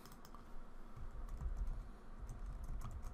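Close, quiet typing on a computer keyboard while working in an Excel spreadsheet: a quick, even run of soft plastic keystrokes with no voice.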